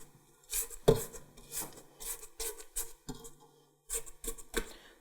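Spatula scraping around a KitchenAid stand mixer bowl in repeated short rasping strokes, with small knocks between the scrapes.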